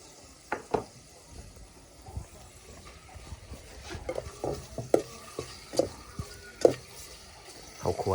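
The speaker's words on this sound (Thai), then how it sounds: "น้ำมันก็เริ่มฟดแล้วเราจะเอาซีนลงเลย" Hot oil sizzles quietly in a pan as canned sardines go in, with scattered clinks, scrapes and stirring knocks from a home kitchen.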